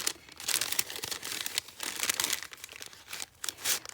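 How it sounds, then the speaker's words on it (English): Tissue paper crinkles and rustles close up while a provision box of fabric swatches and ephemera is unpacked, a series of crisp papery bursts and crackles with short pauses between handfuls. "Tissue paper."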